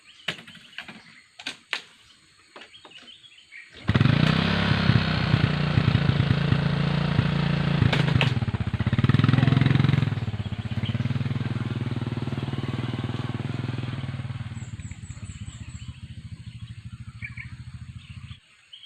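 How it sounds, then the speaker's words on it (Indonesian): Motorcycle engine running steadily in a palm oil plantation during pesticide spraying, starting loud and close after a few faint knocks, then settling into a continuous idle-like drone. "Motor mesti ada kalau di kampung."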